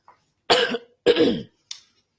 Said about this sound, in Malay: saya mungkin terbatuk-batuk sikit lah adjusting my throat.